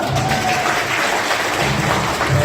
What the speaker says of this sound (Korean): 우리 두 분을 위해 다시 한번 박수 부탁드립니다.